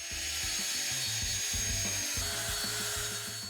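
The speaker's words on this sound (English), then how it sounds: "Now that I've got the parallel guide set to cut at 334mm, I just need to rip 3 pieces exactly the same width" A hand saw guided by parallel guides rips wood pieces to width. It makes a steady, close rubbing saw rasp of rapid rhythmic strokes that continues throughout.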